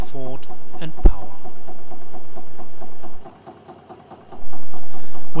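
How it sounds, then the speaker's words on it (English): A 3D printed half rhombic drive Stirling engine runs with a fast, even mechanical ticking and whir, close and steady, briefly dropping to near silence midway before resuming. "the half rhombic Stirling engine is quietly running for the first time"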